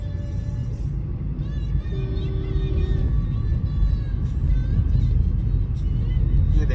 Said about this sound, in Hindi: और यहाँ पे भी मिक्स ट्रैफिक चालू हो गया है।